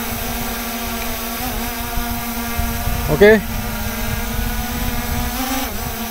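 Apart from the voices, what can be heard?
SJRC F22 drone flying in strong wind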